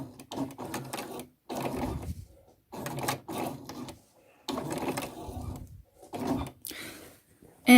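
A sewing machine stitches a trouser seam in short, slow bursts of mechanical whirring, stopping and starting several times, near and fairly quiet.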